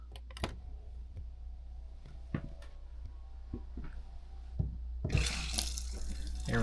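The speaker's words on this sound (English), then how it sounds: "turn on the 12-volt water pump." A low steady hum of a 12-volt water pump in a travel trailer, with occasional clicks and taps, then pink antifreeze and water suddenly gush out loudly from a line near the end.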